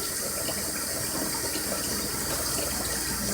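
Tap water runs steadily over a Corningware dish in a sink, a continuous broadband splashing rush that stays even and close for the whole stretch, with no voices.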